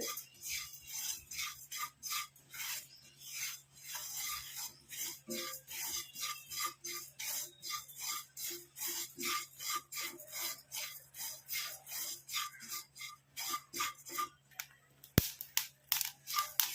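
A coffee powder mixture is dry-roasted in a pan and stirred with steady, rhythmic scraping strokes, dozens of close, rasping scrapes repeating evenly throughout.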